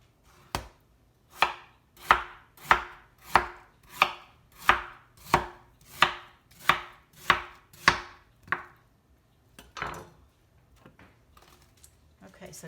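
A knife chops through a watermelon in about a dozen evenly spaced, crisp cuts, close up and alone, followed by a few softer taps and rustles.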